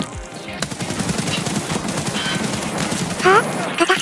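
Rapid bursts of SA-58 rifle fire in the video game Escape from Tarkov, a near continuous fusillade of close shots with a voice speaking briefly over it.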